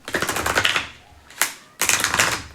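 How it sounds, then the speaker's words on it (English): Sacred Destiny Oracle cards by Dennis Lin riffled and shuffled at close range in quick crisp bursts, a long flurry, a single sharp snap, then another rapid flurry, with no talking. "let me give this deck a good shuffle before I pick"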